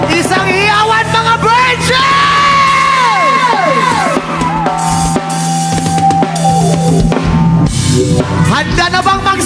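A crowd at a live band concert in Tacloban City during a festival shouts and cheers loudly throughout, over booming band music with sustained tones and a shouted voice on top.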